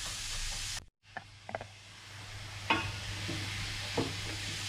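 Onions sautéing over a medium flame in a pan, with a steady low sizzle and occasional scraping knocks as they are stirred, close and without talk.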